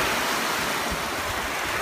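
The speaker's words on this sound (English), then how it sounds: "Oh dear, the waves knocked down the Teletubbies." A toy-like ocean waves effect from a Teletubbies toy, a loud steady wash of surf and hiss that rolls on without a break through the short clip.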